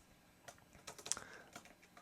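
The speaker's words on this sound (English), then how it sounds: "So when I'm pressing the colon or the semicolon key, it didn't press very well." Quiet, irregular taps sound from someone typing on a slightly sticky computer keyboard, heard close and faint as a few scattered keystrokes with brief gaps between them.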